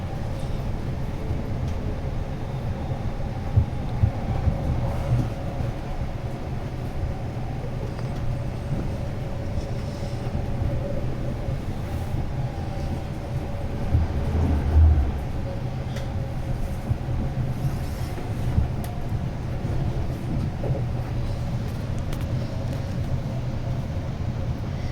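Steady rumbling drone inside a moving TransPennine Express train between Scarborough and Manchester Piccadilly, constant low engine and rail noise with faint clicks and bumps throughout, no talk.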